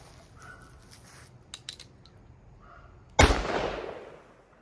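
A single sharp, loud .44 Magnum gunshot with a 210-grain H110 load from a 7.5-inch barrel, cracking close by and then ringing into a decaying echo after a few quiet clicks and handling sounds.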